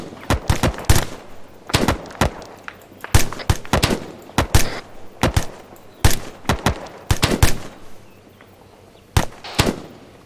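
Sharp gunshots crack in irregular single shots and short clusters throughout a firefight in the military shooter ArmA 3, loud and close with some reports trailing off more distantly.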